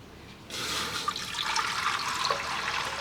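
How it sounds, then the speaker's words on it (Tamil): Water gushes into a cooking pot on a stove in a home kitchen, starting abruptly after a brief quiet moment and then running as a loud, steady pour for the rest of the stretch. "தண்ணியை ஊற்ற போகிறோம்."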